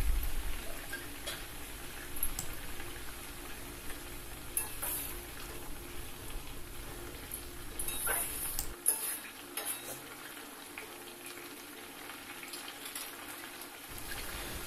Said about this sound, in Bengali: এখন আমি আগে থেকে ভেজে রাখা পাবদা মাছ দুটিকে দিয়ে দেব।